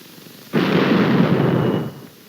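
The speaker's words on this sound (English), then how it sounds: "A mortar." Mortar firing, a single broad blast that swells suddenly and sustains for over a second with a rough roar before cutting off, loud and alone.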